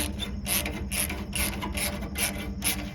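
Hand ratchet loosening a bolt on a barn-find vehicle, clicking in regular repeated strokes, about six pulls in three seconds, close and clear with no talking.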